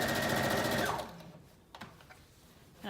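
Sewing machine stitching a seam on a wrap dress, a fast close whirring run of needle strokes for about a second, then stopping, followed by faint handling noises.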